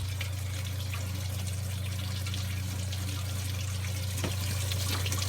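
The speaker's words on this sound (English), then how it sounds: "the pump turns on, it just sounds like a waterfall, like at a spa or something" Water from a tower garden pump trickles and splashes steadily like a small waterfall in a backyard, a continuous close, even wash with a low steady hum beneath and no speech.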